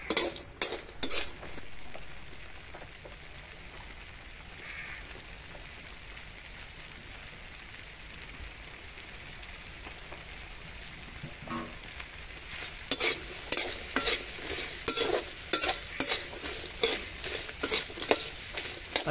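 Crab curry frying in oil in a home kitchen, a dense crackling sizzle like rain on a surface, with a stretch of quieter frying and then bursts of stirring scrapes and clatters, close and without talk.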